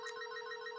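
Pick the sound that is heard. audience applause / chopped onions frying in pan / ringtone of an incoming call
ringtone of an incoming call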